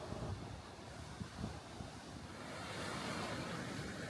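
Sea waves wash onto the shore under an overcast sky, a soft continuous surf with wind rumbling across the microphone, fairly faint and with no voices.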